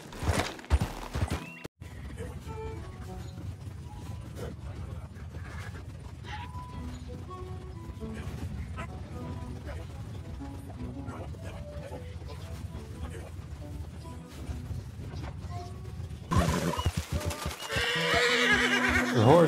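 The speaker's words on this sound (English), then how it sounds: "Your horse is agitated by a predator." Agitated horse in the Red Dead Redemption 2 video game, whinnying and neighing in repeated bursts over steady clip-clop of hooves and ambient game sound, with a louder, busier stretch near the end.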